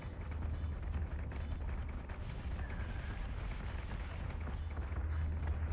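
Warship gunfire in the space combat game Battlestar Galactica Deadlock rumbles as a continuous, dense barrage of low booms and thuds, steady throughout and fairly quiet, with no single shot standing apart.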